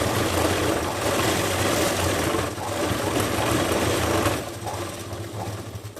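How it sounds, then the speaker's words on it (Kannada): A sewing machine runs a continuous stitching pass along the edge of a dress sleeve, loud and close with a steady motor drone that eases off near the end. "ಹಾಗೆ ಈ ಕಡೆ ಎಡ್ಜಲ್ ಕೂಡ ಇನ್ನೊಂದು ಹೊಲಿಗೆ ಕೂಡ ಹಾಕೊಳ್ತಾ ಇದ್ದೀನಿ"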